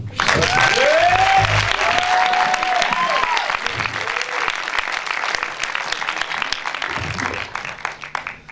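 A packed concert hall audience at a show in Le Mans bursts into loud, sustained applause that fills the room and slowly thins toward the end, with cheers and a voice rising over the clapping.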